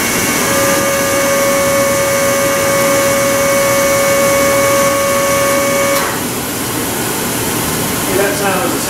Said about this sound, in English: That sound is the sound of the oil pump pumping oil from my holding tank outdoors into the siphon